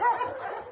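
A single short, higher-pitched dog vocalisation, like a bark or yip, comes from a dog at a shelter for homeless dogs.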